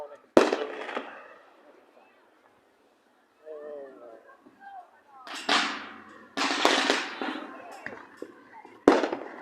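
Firecrackers bursting inside a metal farm can during Fourth of July celebrations, sharp loud cracks with a ringing, clanging quality, a few separated bursts and a rapid cluster near the end, with voices talking in the gap between them.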